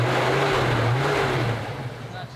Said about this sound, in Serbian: gledaj kako on mirno radi